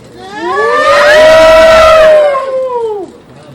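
A large crowd at a Universal Woman Philippines 2025 appointment event cheers and screams loudly. The noise swells over about two seconds and then fades, with high voices carrying above the roar.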